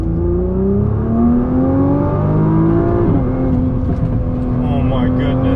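A Nissan GT-R R35 accelerates hard out of a corner in second gear, its engine note a loud, steady, rising drone close to the cabin that dips briefly partway through.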